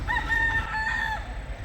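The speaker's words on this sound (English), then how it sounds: "Chickens." A rooster in Hawaii crows once, a clear, drawn-out call close by, over a low background rumble.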